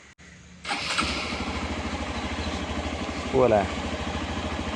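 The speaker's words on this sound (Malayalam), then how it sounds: "ബൈക്ക് എടുക്കുന്നു, വിടുന്നു." A motorcycle engine starts and settles into a steady, close idle with a rhythmic throb, revving briefly near the end, while someone talks over it.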